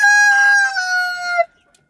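A rooster gives one loud, close crow that is drawn out and falls slightly before breaking off sharply, followed by near silence, at a wintry backyard chicken coop.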